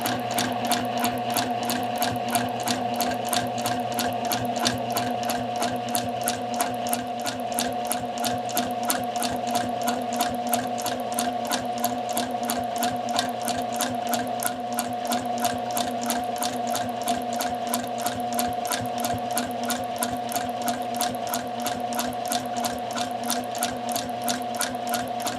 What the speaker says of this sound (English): I'm going to top stitch through my pocket bag and both seam allowances.